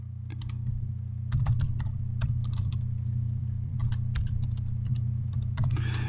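Typing a command on a computer keyboard, with quick bursts of close, crisp key clicks separated by short pauses over a steady low hum, with no talking.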